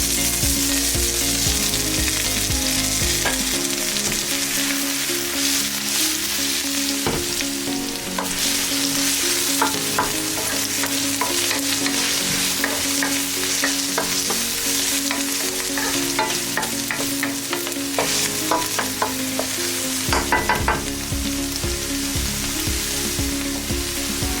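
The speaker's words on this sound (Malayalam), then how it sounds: "അതിനുശേഷം സവാള ചേർത്ത് നന്നായി ഇളക്കുക." Sliced onion frying in hot coconut oil with mustard and fennel seeds, stirred vigorously in a pan for squid roast: a continuous loud crackling sizzle with frequent spatula scrapes and clinks, close up.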